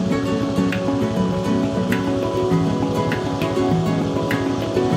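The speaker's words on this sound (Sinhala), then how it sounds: "එන ලොකු මේ ජල ප්‍රවාහයක් එනවා." A large flow of water surges along a forest canal in Sri Lanka, making a loud, continuous rushing wash with a faint pulsing churn and no voices.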